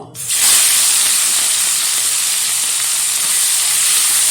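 Shrimp coated in salt and turmeric hit hot oil with a sudden loud sizzle that settles into a steady, close, crackling hiss.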